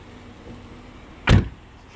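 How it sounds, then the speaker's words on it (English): A single solid 2009 Pontiac G8 GT car door thunks shut, one short heavy slam against a quiet background with a faint click just before. "it takes very little effort to close the doors"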